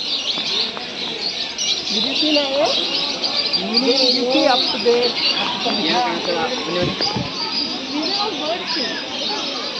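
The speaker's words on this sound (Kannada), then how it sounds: "ಸೊ ಇಲ್ಲಿ ಫುಲ್ ಪ್ಯಾರೆಟ್ಸ್ ಇದ್ದಾವೆ. ನೋಡಿ, ಫುಲ್ ಆಫ್ ಪ್ಯಾರೆಟ್ಸ್." Dense flock of parrots and budgerigars in a zoo aviary in Mysore, chirping and tweeting in rapid overlapping calls over a constant bright background chatter for the whole stretch.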